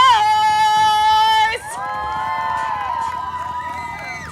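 At the Forest Fall Fair, a crowd cheers and shouts loudly for a motocross-style stunt flip, a sustained roar of voices and whoops that swells, briefly dips, then carries on with a high held tone at the start.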